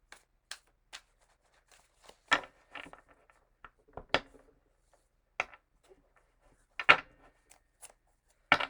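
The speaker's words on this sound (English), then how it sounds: "Couple little overhand shuffles." Quiet, irregular papery flicks and soft slaps of tarot cards being overhand shuffled by hand, a few sharper bursts standing out, no talking.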